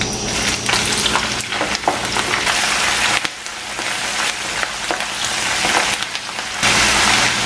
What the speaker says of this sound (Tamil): இந்த பச்சை மிளகாய் வந்து 30 செகண்ட்ஸ் பொரிச்சிருக்கிறேன்.